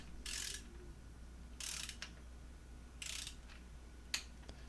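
A wrench clicks through Subaru cylinder head bolts being tightened to 22 foot-pounds: three short bursts of faint ratcheting with a few sharp clicks between, quiet and close.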